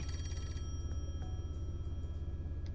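Telephone ringing in the video game Rain Code, heard as a faint, steady repeating electronic ring over a low background rumble, with no one talking.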